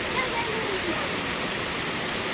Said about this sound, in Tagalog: Biglang bugso ng ulan dito sa amin, guys.